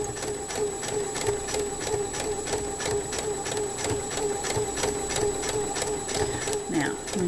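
A sewing machine stitches fabric for a decorative pillow in a steady, rapid, even rhythm throughout, close and moderately loud, with a constant motor whine underneath.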